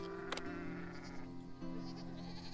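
Sheep bleat in the video game Farm Manager 2021 in a steady wavering drone over a constant hum and background music, with a brief sharp click near the start.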